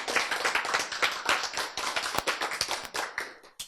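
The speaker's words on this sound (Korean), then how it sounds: "박수." An audience claps briefly at a Korean lecture on genetic maps, a quick burst of close, irregular hand claps that fades out within a few seconds.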